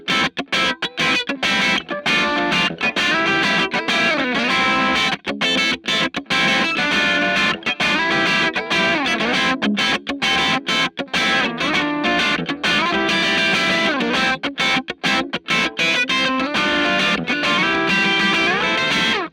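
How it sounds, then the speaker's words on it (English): A heavily distorted electric guitar through an overdriven tube amp plays aggressive, choppy chords and riffs, loud and close throughout. "that's a really nice, natural, aggressive distortion sound that tube amps are famous for"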